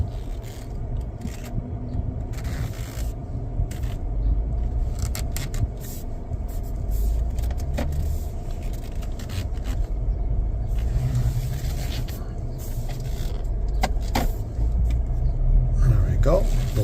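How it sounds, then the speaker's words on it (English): A 2026 Chevrolet Equinox LT rolls slowly in reverse, a steady low road rumble and faint tire scrape running throughout at moderate level, with no clear engine rise. "And we're backing up."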